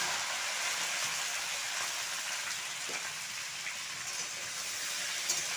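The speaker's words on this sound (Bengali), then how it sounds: "তেল গরম হয়ে গেছে, কাটা ঢ্যাঁড়সগুলো দিয়ে দিচ্ছি" Sliced okra hits hot mustard oil in a pan, a steady dense sizzle and crackle that holds evenly throughout, close and continuous with no voices.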